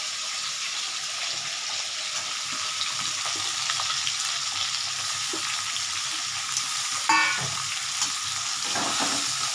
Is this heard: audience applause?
no